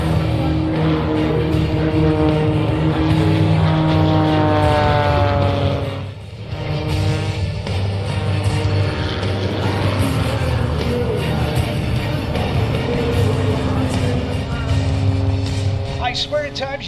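An aerobatic airplane flies at the NAS Key West airshow, its engine a sustained droning roar with shifting pitch that dips briefly midway and then resumes, heard from a distance with faint crowd noise beneath.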